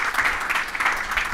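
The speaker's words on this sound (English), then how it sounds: "guys, a big round of applause for Ian here." An audience at a technical presentation on software migration gives a round of applause, a steady, moderately loud burst of clapping with slight pulsing, heard alone.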